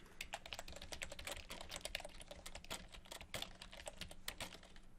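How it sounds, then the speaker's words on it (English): Rapid, uneven typing on a computer keyboard while coding, a dense run of sharp close key clicks with no pauses and no talk. "Trying to type too fast."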